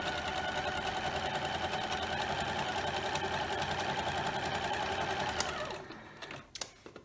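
A sewing machine edge-stitches close to the edge of an appliqué stem on a scrappy fall quilt, running steadily and close for about six seconds before stopping, followed by a few faint handling clicks.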